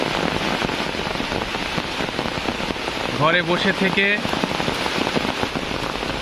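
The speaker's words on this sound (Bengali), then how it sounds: "ঝমঝম বৃষ্টিতে চারপাশ একাকার" Heavy rain pelts down in a village, a loud, steady patter on surfaces throughout, with a person speaking briefly over it partway through.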